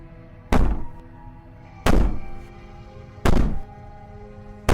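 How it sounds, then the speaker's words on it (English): Heavy thuds of banging against a wooden cabin in the horror game Slay the Princess, three loud booming impacts spaced about a second and a half apart with a fourth starting at the end, each ringing out over a low hum. "Maybe the banging and wailing will stop if you just don't pay attention to it."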